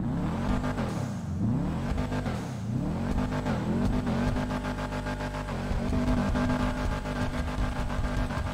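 A Toyota Supra engine in a modded GTA 5 game revs hard and repeatedly, its pitch swooping up and down in loud, close surges before settling into a sustained, rough drone.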